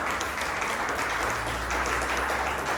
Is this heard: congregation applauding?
yes